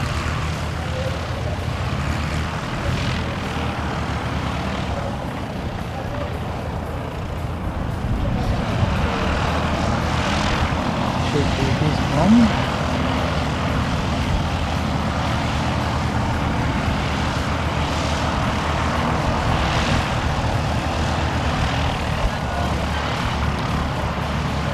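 A propeller aircraft from the Aero Club, not painted in the same livery as the others, drones past at a distance, its engine hum rising slightly and holding steady.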